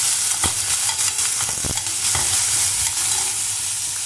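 Two onions fry in a pan for a Tamil chicken curry, a steady close sizzle broken by the scrape and clatter of a spoon stirring them several times.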